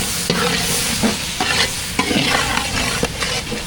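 Egg masala with added ground spices is stirred in a hot pan, with a close, loud sizzle and frying broken by repeated scraping strokes of the spoon.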